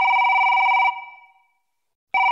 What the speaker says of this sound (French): Mon téléphone sonne.